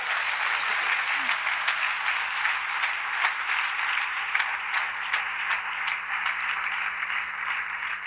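A church congregation breaks into sustained applause during a sermon, a dense, even wash of many hands clapping that holds steady over a faint low hum.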